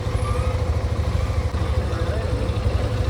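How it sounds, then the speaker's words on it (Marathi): A busy road jammed with motorcycles and cars near a Chhatrapati Shivaji Maharaj temple at Marade Pada, a steady low engine rumble and idling drone close by, continuous throughout. "फुल ट्रॅफिक लागले इकडं"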